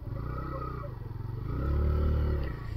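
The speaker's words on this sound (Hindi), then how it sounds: "यहाँ पे पार्किंग में अपनी बाइक को लगा देते हैं।" A motorcycle idles and rumbles up close while being pulled into a parking area, its low engine throb swelling briefly louder, then easing back as it settles.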